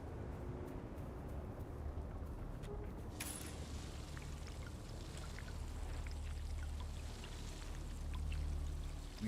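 Water being harvested in the video game Dune: Awakening, a steady pouring, running-water wash that carries on with a low hum beneath it and no voices.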